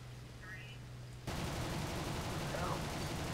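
Video game gunfire: a burst of rapid shots erupts and keeps going, a harsh sustained rattle after a quiet, humming start.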